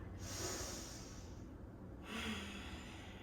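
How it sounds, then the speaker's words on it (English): During a yoga class, a person takes a deep cleansing breath: two long, close, airy breaths with a pause between, heard alone. "take a big cleansing breath"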